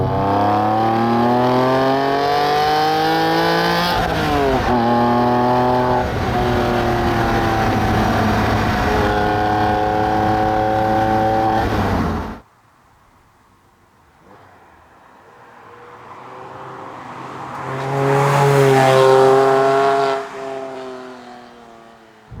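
An older Porsche 911's engine revs hard through the gears with a loud, raspy exhaust, cuts out abruptly, then builds again with a rising roar and fades.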